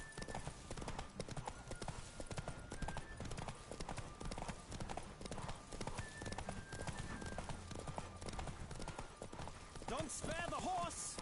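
A galloping horse's hooves drum fast and continuously, loud and near, beneath game music and bits of voice, during a horse race in The Witcher 3 with Roach at full speed.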